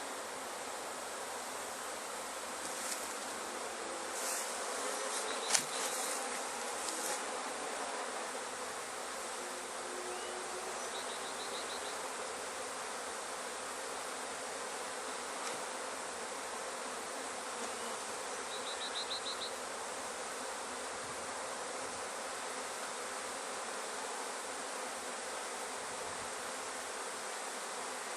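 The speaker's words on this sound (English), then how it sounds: "These are mean, pissy bees." Aggressive honey bees swarm around an open hive, filling the air with a dense, steady buzz that holds close and unbroken throughout, with a few sharper passes flitting nearer.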